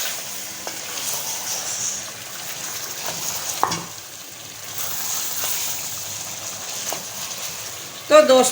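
Ground masala spices for nihari frying and being stirred in a pan, a steady close sizzle with occasional scrapes and clatters of a spoon against the pan, ending in a louder burst of stirring.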